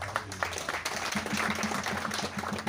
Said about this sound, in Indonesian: Kita berikan aplaus dulu Pak